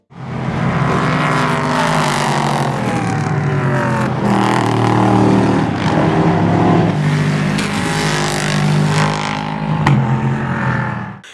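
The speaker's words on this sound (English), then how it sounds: "This engine, modified for racing by Nissan's Nismo Sport division, is also found in the Nissan Titan truck and has a powerful sound." A Nismo-modified Nissan 5-liter V8 in an LMP3 race car roars loudly and continuously, rising and falling as it revs and accelerates close by, with no talk.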